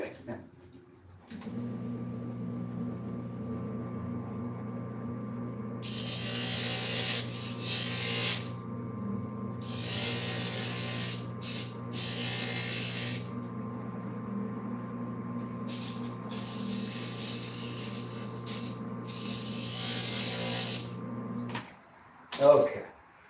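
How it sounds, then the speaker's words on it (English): An electric stained glass grinder hums steadily while glass is pressed against its bit, bursts of harsh gritty grinding coming and going over the motor drone before it shuts off near the end. "But since I do in fact have a grinder"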